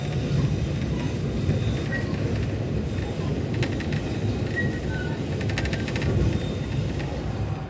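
Ciremai passenger train running along the railway near Cilame station in West Bandung, a steady, continuous rumble of wheels on track with faint hiss and brief squeals, heard from on board without talk.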